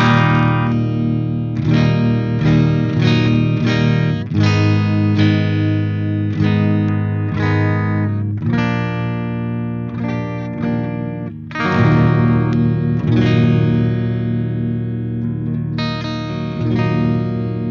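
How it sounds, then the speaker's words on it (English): Electric guitar through a Joyo Bantamp XL Zombie II mini hybrid tube amp on its clean channel, ringing chords and picked notes played up close in phrases with short pauses, no talking. "that's a clean channel right in the middle, which sounds really great"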